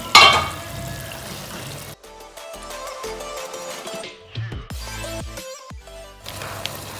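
Chicken frying in a pot for Hyderabadi chicken biryani, a steady, close sizzle and crackle with occasional stirring clatter and a tonal layer underneath.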